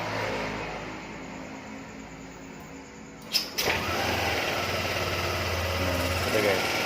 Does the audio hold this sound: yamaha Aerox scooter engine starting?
yes